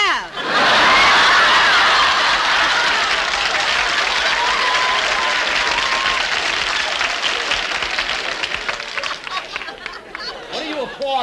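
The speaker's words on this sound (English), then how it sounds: "What are you applauding?" Enthusiastic studio audience applause swells quickly and holds loud and steady, mixed with some laughter and chatter before thinning toward the end.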